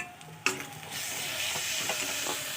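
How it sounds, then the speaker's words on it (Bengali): Onion frying with ginger-garlic-chili paste, cumin, chili and turmeric powders for chicken with jackfruit: a sharp clack, then a continuous close hiss and sizzle with faint stirring scrapes. "এখানে একটু জিরার গুঁড়ো, লঙ্কার গুঁড়ো, হলুদের গুঁড়ো ভালো করে কষিয়ে"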